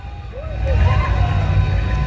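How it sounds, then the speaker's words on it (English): A horse whinnies briefly amid a noisy outdoor crowd at a Christmas parade in Booneville, with riders on horseback passing, rumbling background bustle and murmuring voices. "Now we got us a few folks riding horseback."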